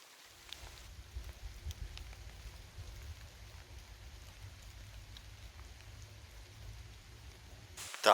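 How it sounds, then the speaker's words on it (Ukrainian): Light rain falls steadily during pike fishing outdoors, a soft continuous patter with low rumble, faint and close, ending in a brief louder knock. "І знову дощ, і знову дощ."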